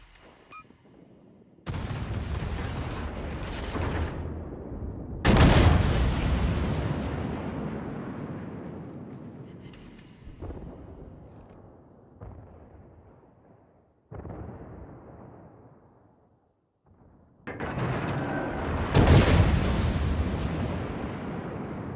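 Naval gun salvos boom out in a World of Warships-style game, with the cruiser Zao firing. Heavy blasts with long rumbling tails strike in separate bursts, the loudest cracks landing early and near the end, with quiet gaps between them.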